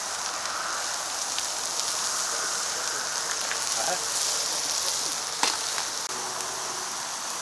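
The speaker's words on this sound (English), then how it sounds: "Raining." Rain falls in a steady hiss with scattered drips and a few sharp knocks nearby.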